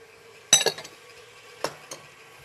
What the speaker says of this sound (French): la poudre d'amande que l'on va mélanger en même temps avec du sucre glace